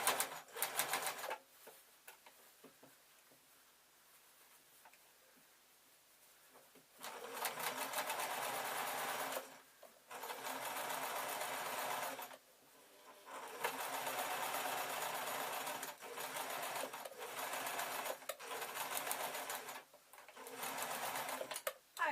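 Sewing machine stitching an Easter bonnet, running in several loud bursts of rapid mechanical whirring separated by short pauses, close to the microphone.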